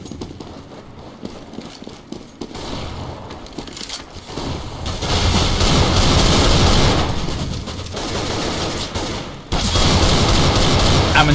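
Desert Eagle pistol shots ring out in a CS:GO match on de_dust2, part of a women's tournament game, with dense bursts of gunfire and other weapons packed close together and growing louder partway through.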